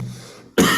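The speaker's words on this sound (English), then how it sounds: "Apologies for the coughing." One sharp, loud cough bursts out close at the end, after a quiet stretch of faint breathy room noise, during a spoken class.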